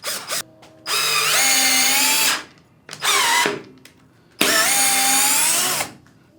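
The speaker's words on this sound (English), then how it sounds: "let's drill this here" A Hercules power screwdriver from Harbor Freight whines loudly in three separate bursts, each with a rising motor pitch that then holds steady before cutting off, separated by short silent pauses.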